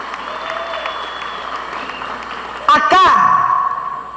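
A crowd at a village land-handover ceremony in Colombia bursts into applause partway through, loud and close after a stretch of quieter background noise.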